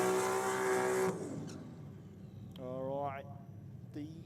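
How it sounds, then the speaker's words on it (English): Barra turbo-swapped Datsun 1600 drag car at Sydney Dragway, a loud close engine note that cuts off after about a second, then distant revs and rising tonal engine sweeps under a voice. "All right, the Barra Turbo Swap Datsun 1600 out now."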